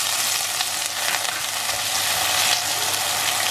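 Frozen green peas hit hot masala in a pan, and a steady, bright sizzle and crackle of frying continues throughout without any talking.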